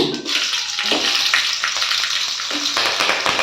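Green and dried red chillies frying in hot oil with mustard seeds, giving a steady, loud, close sizzle with scattered sharp pops and crackles throughout and no talk.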